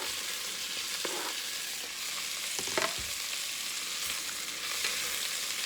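Onion and carrots sauté in a pot for beef bourguignon, giving a continuous soft sizzle and frying hiss with occasional faint stirring clicks, close but fairly quiet throughout.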